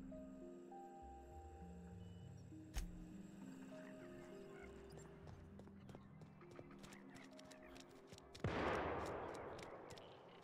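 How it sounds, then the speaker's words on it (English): A single sharp gunshot in the video game The Outer Worlds as a character shoots himself, cutting through soft background music; a second loud burst of noise follows several seconds later. "Did he just shoot himself?"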